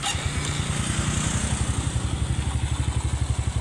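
Suzuki Smash 115 motorcycle, with a faulty kickstart and a noisy third gear, running close by with a loud, fast, even single-cylinder chug throughout.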